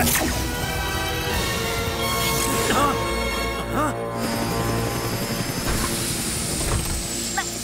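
An animated cartoon aircraft engine drones steadily at moderate volume beneath busy effects and scattered voices, with whooshing sweeps and clatter layered over the continuous mechanical hum.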